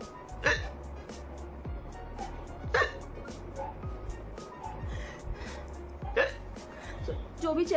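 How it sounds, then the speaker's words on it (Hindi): A woman hiccups three times at spaced intervals, each a sudden sharp gulping catch in the throat, heard fairly close amid quiet background noise. "बहुत ज्यादा तेज हिचकी आ रही थी तो मैंने फटाक से लेके बैठ गई कैमरा।"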